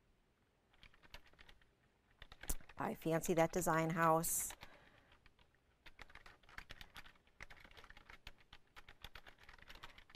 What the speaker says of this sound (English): Just typing that in here